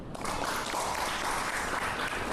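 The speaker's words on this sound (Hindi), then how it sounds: "एक बार ताली बजाए" A church congregation claps hands together in unison during a sermon, a brief burst of dense mixed clapping heard from a short distance, fairly soft and without talk.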